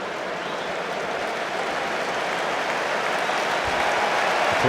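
Stadium crowd at an England v Scotland rugby match applauding a hat-trick scorer, a dense, steady roar of clapping that holds level and swells slightly toward the end, with no voices over it.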